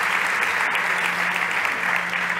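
An audience at a health startup pitch competition gives a steady wash of applause, dense and continuous clapping at an even level with no breaks.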